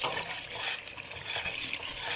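A spoon stirs salt, red chili powder and turmeric into a pot for chicken haleem, giving a continuous scraping, rustling mix with faint sizzling underneath and no talking.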